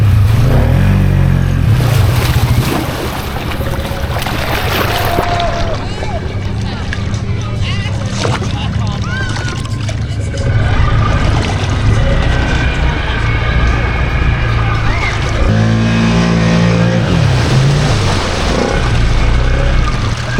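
A Can-Am X3 side-by-side churns through a sloppy water trail, its engine droning and revving loudly nearby amid splashing and rushing water, with people talking over the noise.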